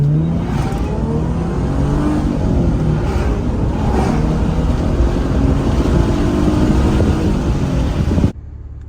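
A car engine runs smoothly at a steady idle while driving, a loud, even hum with no roughness or fluctuation, heard alone throughout before cutting off abruptly.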